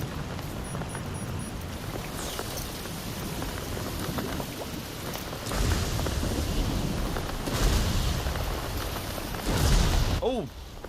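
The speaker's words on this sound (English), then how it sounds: "Storm's coming through." Rain and a thunderstorm in the video game Death Stranding 2 sound as a steady downpour hiss, with louder gusts or rumbling surges building toward the end; a voice talks occasionally.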